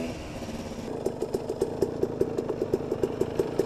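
A KTM 250 SX motocross bike's engine runs at a distance, first as a low steady drone and then as a quick regular pulsing note that holds fairly constant and faint.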